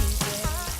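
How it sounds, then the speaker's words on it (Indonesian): Flour-coated chicken breast dropped into very hot oil, giving a loud, dense, steady sizzle with crackling bursts, up close and with no voices. "Saatnya kita goreng ayamnya guys."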